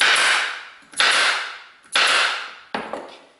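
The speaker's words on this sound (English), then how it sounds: "then we're going to start to staple about 1 inch up" A staple gun fires four sharp snaps in steady succession while stapling a Bolens Diablo Rouge seat cover to wood, each loud crack followed by a brief decaying ring.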